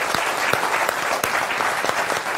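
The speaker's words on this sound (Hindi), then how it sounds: "उनका जोरदार तालियों के साथ अभिनंदन करिए।" A studio audience at a televised political debate show on India's 2024 Lok Sabha election claps, dense continuous applause, loud and close, with no gaps.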